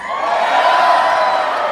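A large convention crowd at a Star Wars fan celebration yells and cheers loudly on cue, a sustained roar of many voices that swells and holds for a moment.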